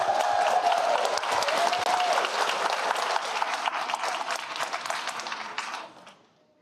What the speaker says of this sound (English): One more big round of applause for the LAE Choir.